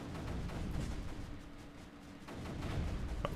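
Mortars firing in the strategy game Creeper World 3, a dense, continuous rumble of muffled thumps and blasts with a sharp report near the end.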